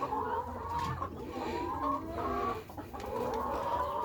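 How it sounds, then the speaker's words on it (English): Layer chickens in a farm box cluck and chatter continuously, several birds overlapping at close range in a busy, uneven stream of short calls. "What I know about these chickens is that they're very curious and they love to eat."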